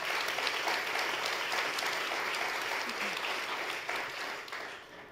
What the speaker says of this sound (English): Give them a nice round of applause to get us going.